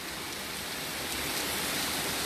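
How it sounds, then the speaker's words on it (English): Heavy rain from Hurricane Zeta at landfall pours down as a steady, dense hiss, loud and unbroken throughout with no voices. "Wind and rain, substantial rain."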